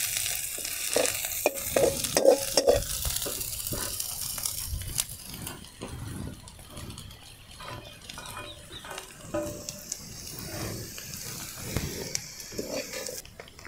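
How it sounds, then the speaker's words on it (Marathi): Onion, garlic greens and coconut fry in a pan for a dried-fish chutney, with a soft sizzle under repeated stirring and scraping of a spoon against the pan, and faint bird calls in the background. "आणि कांदा पण इकडे तळायला टाकलेला आहे।"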